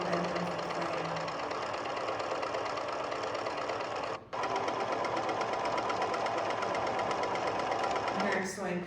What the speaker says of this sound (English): Here I'm sewing copper wire on the edges to stabilize the cloud forms